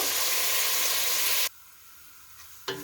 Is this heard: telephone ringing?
no